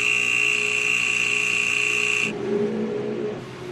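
A tire pavement testing machine running steadily with a strong whining motor hum and high tonal drone, which drops abruptly to a lower rumbling tone partway through; no talking.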